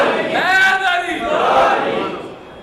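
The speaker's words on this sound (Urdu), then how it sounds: "سارے بولے، سارے نعرے کا جواب دیا۔" A congregation at a religious gathering shouts a slogan back in unison, a loud massed roar of many voices rising and falling over about two and a half seconds.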